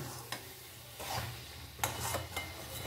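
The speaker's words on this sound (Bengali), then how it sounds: "এবারে এই আলু সমেত এটা নাড়াচাড়া করে ভালো করে কষিয়ে নেব।" Potatoes being stir-fried with spices in a pan for a vegetarian aloo dum, with soft scraping stirring strokes and a low sizzle, fairly quiet, with no talking.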